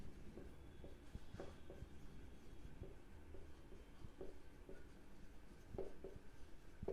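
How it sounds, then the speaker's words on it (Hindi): Pen strokes scratch faintly across paper while a geometry statement about transversals and supplementary angles is written out. The strokes come in a quick, irregular rhythm under a steady low background hiss, with no one speaking. "पहले लिख लेने दो"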